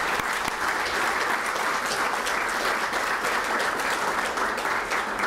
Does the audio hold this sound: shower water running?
no